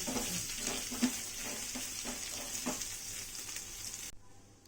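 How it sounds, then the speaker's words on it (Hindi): Pieces of taro root (arbi) fry in a pan with a loud, continuous sizzle up close, joined by occasional stirring scrapes, until the sound cuts off abruptly near the end. "अरवी को अच्छे से फ्राई होने देंगे।"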